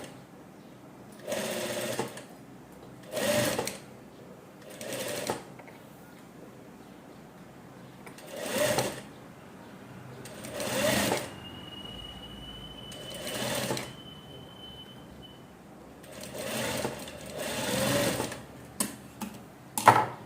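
A sewing machine runs in repeated short bursts while stitching a blouse sleeve, each run lasting about a second with quiet pauses between, and a faint whine once in the middle.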